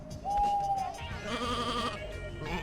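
Sheep bleating in the PS1 video game Sheep Dog 'n' Wolf: a drawn-out, steady bleat near the start, followed by game music and background tones that continue without voices.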